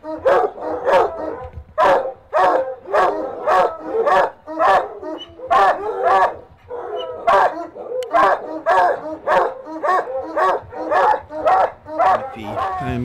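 Several starving junkyard dogs bark repeatedly in loud, close bursts, a fast rhythmic volley of barks with brief pauses, sometimes overlapping into a frantic chorus.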